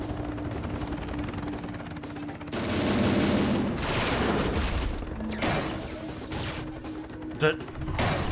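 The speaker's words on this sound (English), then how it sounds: "In other words, shoot it with a gun." Rapid gunfire in the 2007 video game Transformers Autobots, a dense sustained fusillade of shots mixed with booms and engine rumble under game voices, with a brief sharp burst near the end.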